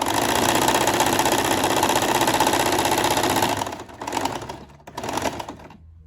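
A sewing machine runs a straight seam joining the shoulders of a dress, a steady fast mechanical whir with rapid needle ticking that carries on alone for several seconds, then slows into short stop-start bursts.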